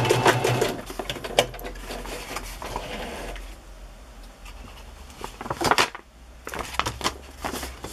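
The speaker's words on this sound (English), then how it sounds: "I guess my sewing machine isn't even in your view" A sewing machine stitching through paper whirs steadily in bursts, with a rapid mechanical chatter, pausing briefly before running again.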